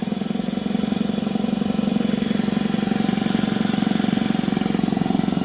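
A piston compressor test rig runs steadily nearby, giving a continuous, even mechanical drone with a fine rapid pulsing while its speed is set, and no one speaks.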